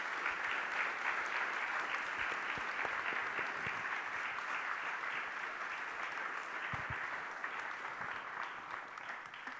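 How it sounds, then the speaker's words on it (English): An evening audience at a foreign policy panel on Ukraine, Russia and NATO applauds the panelists, a full, even round of clapping that continues steadily and fades slightly near the close, fairly soft overall. "A round of applause for these terrific panelists."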